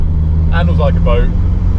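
A Volvo 940 Turbo engine rumbling loud and steady from inside the car while driving, with a voice speaking briefly over the drone.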